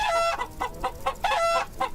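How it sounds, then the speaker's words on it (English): Chicken in a video game clucking in rapid repeated bursts, about eight short squawky calls over two seconds, loud and close with no talk over it. "I have a chicken."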